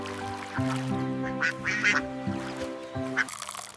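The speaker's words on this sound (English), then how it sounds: "The ducks are swimming." Ducks quack on the water at a park, several harsh calls repeating through the clip over a steady background of tonal hum and other layered sounds.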